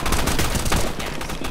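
Rapid gunfire from a Roblox Call of Duty: Modern Warfare II shooter game rattles in dense, loud bursts of automatic shots, continuous and close throughout.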